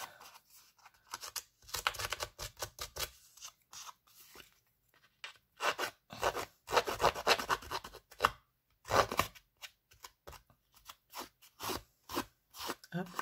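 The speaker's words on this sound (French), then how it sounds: "je vais avec mon ongle gratter ce qui dépasse, ce qui m'embête" A fingernail scrapes off the excess paper edge on a handmade card, giving close, dry scratching and rasping strokes in irregular bursts with short pauses between them.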